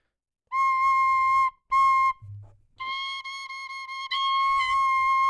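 A whistle sounds in loud, steady tones with clean harmonics: two held blasts separated by a short gap, then a longer sustained note that shifts slightly in pitch partway through, all close and with no talking.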